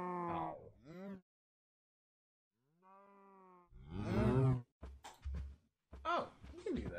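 A lava cow in the Minecraft Stoneblock 2 modpack gives a few low moos between a person's excited talking, fairly close and clear.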